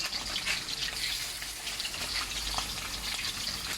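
Pork belly (liempo) frying in oil mixed with water in a kawali, a dense, steady hissing sizzle with spattering pops, close and continuous.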